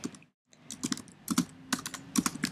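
Fingers tap out text on a computer keyboard while setting up a software project, a close run of quick uneven keystrokes with a short pause near the start, no voices.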